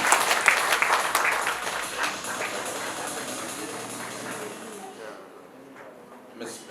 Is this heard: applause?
yes